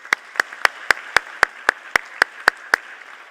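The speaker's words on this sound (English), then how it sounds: "Please, let's give all of our honorees another round of applause." Applause for honorees at a university honors convocation comes as about eleven sharp claps, evenly spaced in a steady rhythmic beat, crisp and fairly loud, with no talking.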